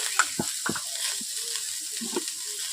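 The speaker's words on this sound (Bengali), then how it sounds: "কড়াইয়ের মধ্যে আমি আলু দিয়ে দিচ্ছি।" Potatoes frying in a hot kadai for street-style egg chowmein give a steady close hiss, broken by a few quick knocks and scrapes.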